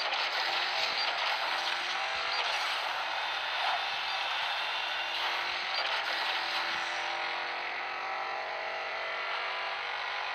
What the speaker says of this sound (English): AMGs. Sounds amazing. Twin bi-turbo V8.